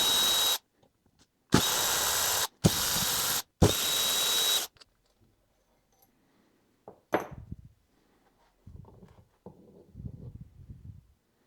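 A power ratchet fires four short, loud bursts in quick succession, removing bolts from an N43 engine oil pump housing, followed by quiet and a few faint metallic clinks and handling noises.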